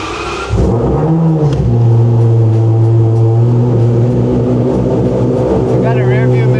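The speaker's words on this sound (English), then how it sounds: "let's do a cold start." A carbon-bodied Mazda Miata ND engine cold-starts with a sudden loud catch after a brief moment, then settles into a steady, fairly high, droning idle that stays loud and close throughout.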